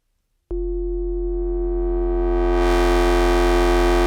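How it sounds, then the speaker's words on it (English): A steady buzzing tone made of two sine waves, harsh and gritty from tube distortion, starting abruptly and swelling slightly louder over about four seconds. "We now have a lower frequency and a higher frequency, and we'll distort those against that with a simple tube distortion."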